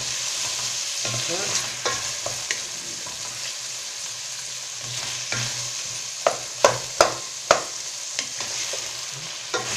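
Tomatoes sizzling and frying in a pan, with a steady hiss and occasional clacks of a utensil stirring, louder scraping knocks near the end.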